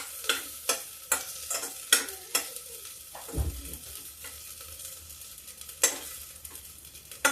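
Spices, a red chili, ginger and cloves, crackle and sizzle in hot oil during tempering, with sharp stirring clicks and spatters at a steady rhythm, close and fairly loud, no talking.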